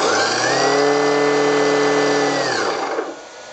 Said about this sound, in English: we'll see the motor starts turning